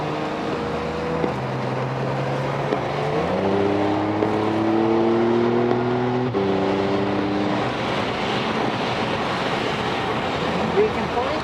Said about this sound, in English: Let the car go to the right here, another braking point, slow down, entering the last corner.